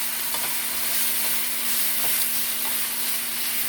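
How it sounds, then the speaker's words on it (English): Sloppy joe meat mixture simmers and sizzles in a pan, a steady close hiss broken by a few soft stirring scrapes, with no voices over it. "And let it simmer for just a couple minutes."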